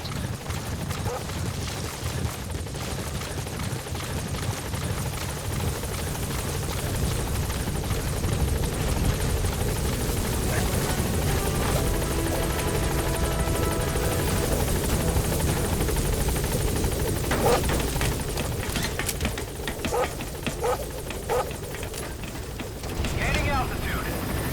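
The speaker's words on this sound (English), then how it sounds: "Support helicopter has arrived." Support helicopter from Metal Gear Solid V, a steady loud rotor thrum and turbine whine filling the whole stretch, with game voices talking over it.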